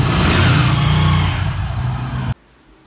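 A motorbike engine revs loudly and close by indoors, holding a rough, steady roar that eases slightly before cutting off sharply, leaving quiet.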